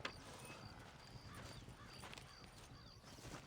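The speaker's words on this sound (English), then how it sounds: "You can take your horse or ride on the wagon." Horse hooves clip-clopping in the western video game Red Dead Redemption, a quiet, continuous patter of hoofbeats with a faint whinny-like tone mixed in, heard alone without speech.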